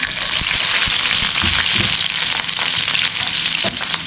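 Dried red chillies and chopped shallots fry in hot coconut oil in a pan, a loud, dense, continuous sizzle heard up close with occasional stirring knocks underneath.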